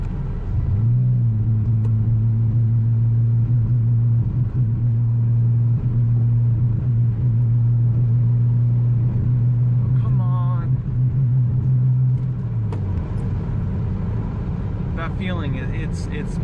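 A broken BMW labors uphill with a loud, steady engine drone and rough rumble that holds for several seconds before dropping away, heard from inside the car with someone talking over it.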